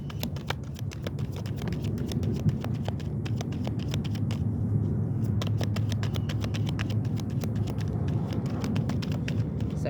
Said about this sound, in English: Pull shuffle through.